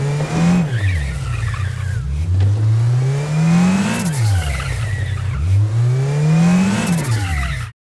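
A video game racing car engine, built in Unreal Engine 5, revs up and down in repeated cycles, tires squealing and skidding over loud, continuous engine drone, each wheel placed in stereo, no talking.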